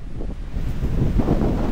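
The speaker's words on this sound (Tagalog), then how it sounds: "Yan mga kapangil, lakas ng hangin, oh." Strong wind gusts across an outdoor planting field, buffeting the microphone with a low, rumbling roar that swells over a couple of seconds.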